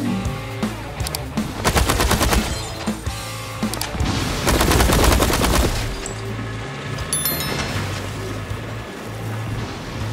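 Rapid automatic gunfire rattles in long bursts while shooting enemies in the sci-fi game Space Punks, loud and dense, with booms and a tonal score underneath, tapering into scattered shots.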